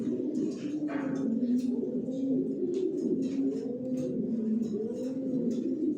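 Racing pigeons coo steadily in a loft, several birds overlapping in low, rolling calls that run throughout, close and fairly loud, with faint chirps above.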